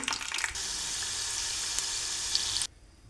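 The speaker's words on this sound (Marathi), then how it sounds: "1 वाटी शेंगदाणे घेतले मी या ठिकाणी। हे लालसर असे तळून घ्यायचे।" Peanuts frying in oil in a pan for salted chivda, a steady close sizzle that runs for most of the clip and then cuts off abruptly near the end.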